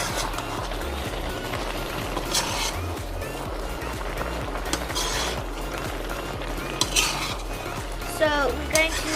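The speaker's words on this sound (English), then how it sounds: "Now we're going to mix it." A spoon scrapes and clatters against a pot while stirring ginger chicken karahi, with a soft sizzle underneath and a few louder metallic knocks near the end.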